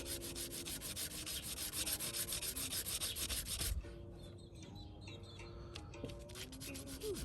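A bead of tree resin is rubbed against sandpaper in quick, rhythmic scratching strokes for a few seconds, close and rasping, then stops, leaving quieter background sounds with birds chirping outdoors and no voices.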